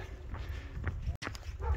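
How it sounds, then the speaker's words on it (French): Dogs bark on arrival in a small Spanish village, short yaps and a whimper sounding at moderate distance, with footsteps and outdoor ambience around them. "avec quelques chiens qui aboient"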